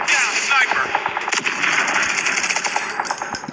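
A rifle fires in rapid bursts during a Call of Duty Mobile match, loud and continuous with rattling shots layered over the game's dense battle noise.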